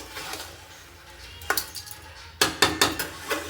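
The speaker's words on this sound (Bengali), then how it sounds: "এটাকে আরেকবার নাড়াচাড়া করতে থাকবো এভাবে আমি তাকে নাড়াচাড়া করবো একবার" A spoon clinks and scrapes against a pot while Bengali-style meat curry is stirred, with a brief stroke followed by a quick cluster of metallic knocks over a quiet background.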